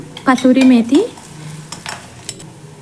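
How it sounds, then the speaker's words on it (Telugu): Curry leaves are stir-fried in a pan for chicken fry piece biryani, with close sizzling and stirring scrapes. A short tonal whine rises at the start and a few spatula knocks follow. "అందులోనే కొద్దిగా కరివేపాకు, కలుపుతూ వేయించుకోవాలి."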